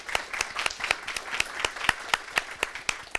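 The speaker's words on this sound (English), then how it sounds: "Let's give that a big round of applause." A small audience at a talk on city leadership gives sparse applause, with a few distinct, regularly spaced claps standing out over a light, thin patter.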